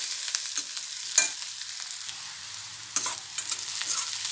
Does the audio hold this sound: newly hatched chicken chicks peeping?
no